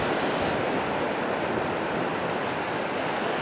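Tide waves wash against a causeway on the coast as a light westerly wind blows, a dense, constant roar of surf and wind with no break and no voices.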